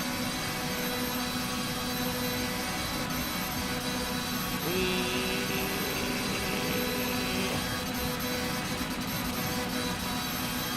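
Hyundai inline-4 touring car engine in the racing game Rennsport, running flat out at top speed: a loud, steady mechanical drone with a higher whine that rises and holds through the middle stretch.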